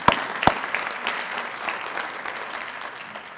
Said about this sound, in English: So will you all join me in giving them a round of applause as well for all the outstanding work they do?